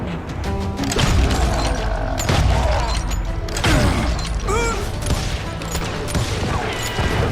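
Gunfire in the Western shooter Call of Juarez: Gunslinger, a dense, continuous barrage of shots mixed with clanks and crashes, loud and steady throughout with no clear gaps.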